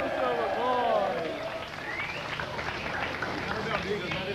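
Applause and crowd noise rise for a guest at a 1999 Sepultura metal show in São Paulo, Brazil, a steady wash of clapping under someone talking over it.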